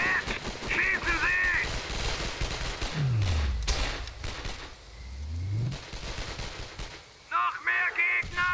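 Bursts of gunfire in the sniper shooter game Sniper Ghost Warrior ring out close and loud among scattered shots, with a sweeping whoosh in the middle and voices shouting briefly at the start and end.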